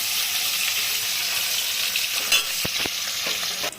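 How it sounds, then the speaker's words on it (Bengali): Six pieces of katla fish frying in oil with nigella seeds and mustard, a constant dense sizzle broken near the end by a few sharp clicks and scrapes of a spatula against the pan. "হয়ে গেল আমার সব মাছ ভাজা"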